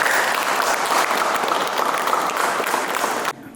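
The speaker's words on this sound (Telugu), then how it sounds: "క్లాప్స్ కొట్టండి మీ అందరు" A crowd applauds at a temple gathering, loud continuous clapping that cuts off abruptly near the end.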